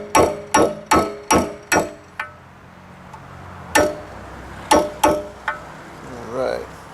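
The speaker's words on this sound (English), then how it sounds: "I usually just take my socket like that, and I'll tap it into place" A socket taps a part into place on a Honda Accord valve cover, making a rapid run of five sharp metallic knocks followed by several more spaced taps, all close and loud with brief ringing decay.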